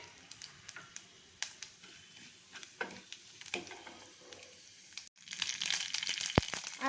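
Mustard seeds, chana dal, urad dal, cumin and fenugreek splutter in hot oil, a faint close sizzle with scattered pops that swells louder and denser near the end, with no talking.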